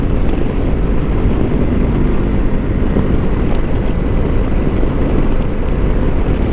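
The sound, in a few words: parallel twin motorcycle engine revving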